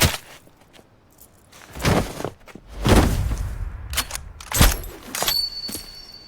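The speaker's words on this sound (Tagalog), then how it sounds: "Hindi na nagpatumpik-tumpik si Brandon, tinutok niya ang kanyang sniper at sa isang mabilis na putok ay sabay niyang tinapos ang dalawa" Several sharp, loud sniper rifle gunshot bangs ring out close by, spaced a second or so apart, each with a short rumbling tail and no voices.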